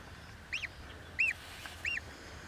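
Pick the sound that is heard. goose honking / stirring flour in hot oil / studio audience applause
goose honking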